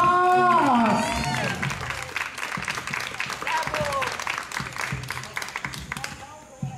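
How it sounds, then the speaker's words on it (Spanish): An audience applauds and cheers for Johan, winner of a La Voz singing contest, at a TV show; clapping swells over a host's voice and fades gradually over several seconds. "pásale un aplauso para él"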